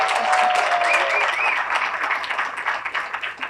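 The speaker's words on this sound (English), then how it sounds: "big round of applause for Mayor Richard C." A loud burst of audience applause greeting Aurora's mayor at a downtown development event, with a brief whistle early on, then thinning into scattered claps by the end.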